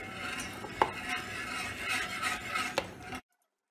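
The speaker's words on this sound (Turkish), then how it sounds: "Pudingimiz pişerken bir yandan da olgunlaşmış muzumuzu bir kapta ezelim." Ripe banana mashed in a bowl with a utensil while pudding cooks for cake balls made from leftover cake: close, steady scraping and squishing with a couple of sharp clinks against the bowl, no voices, ending abruptly.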